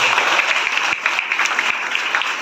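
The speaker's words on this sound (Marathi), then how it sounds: "श्री व सौ या सगळ्या मंडळींसाठी जरा जोरदार टाळ्या वाजवा" Steady, dense audience applause at a memorial remembrance event, many hands clapping continuously at moderate volume with no voices over it.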